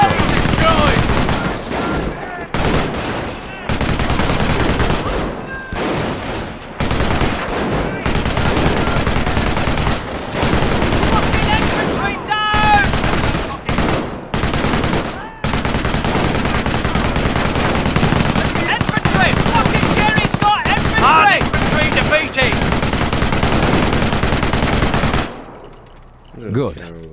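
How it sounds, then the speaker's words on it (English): A machine gun emplacement in the video game Company of Heroes fires at attacking infantry. Long, loud bursts of automatic fire come with brief pauses, and scattered voices are heard between the volleys before the firing stops near the end. "An MG emplacement is an excellent defense against attacking infantry."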